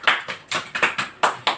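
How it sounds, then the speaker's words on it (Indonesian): Children in a classroom clap hands together in a quick burst of about seven rhythmic, fairly loud claps. "Tepuk tangan dulu."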